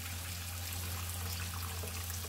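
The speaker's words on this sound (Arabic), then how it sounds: "هضيف صلصه وهضيف لها ميه" Water is poured into a pot of meat and tomato sauce, a faint steady trickle under a low constant hum from the kitchen.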